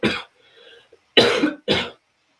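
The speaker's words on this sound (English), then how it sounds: "I'll be coughing on that for a minute" A weather presenter coughs during a live severe weather broadcast, with three close, loud bursts: one sharp cough, a pause holding faint noise, then two more heavy coughs in quick succession.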